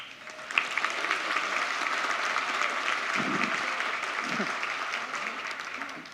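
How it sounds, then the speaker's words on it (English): A room of attendees at a chamber of commerce annual meeting gives a practice round of applause, steady dense clapping that carries evenly for the full stretch with faint voices mixed in. "we'll do an applause and see how the room reacts"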